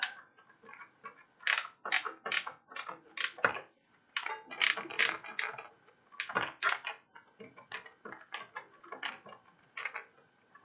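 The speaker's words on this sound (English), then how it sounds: "These are self-tapping metal screws. I'm putting it into a piece of sheet metal, which is really all the Thermaltake Core P5 is." A short screwdriver drives self-tapping metal screws into the sheet-metal frame of a Thermaltake Core P5 case, making bursts of close, rapid clicking and ratcheting with brief quiet pauses between turns.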